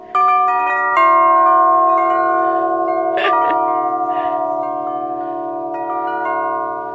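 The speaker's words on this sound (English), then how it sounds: "I'm gonna ring this bell." A bell rung repeatedly outdoors on a family outing near rocks, its sustained metallic tone ringing loud and steady throughout, with struck accents and faint voices underneath.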